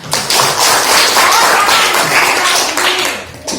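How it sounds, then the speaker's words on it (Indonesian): A class of schoolchildren claps together in a classroom, a loud burst of quick, sharp overlapping claps that runs for several seconds, thinning briefly near the end before a final flurry. "Kasih tepuk dong."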